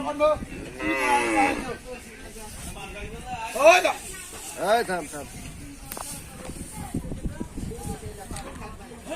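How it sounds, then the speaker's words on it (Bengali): Cattle at a sacrificial cattle market for Eid al-Adha at CDA Balur Math in Chattogram give several loud, drawn-out moos close by, spaced a few seconds apart, with crowd voices and shuffling around them. "আরো অনেক গাড়ি গরু আসবে"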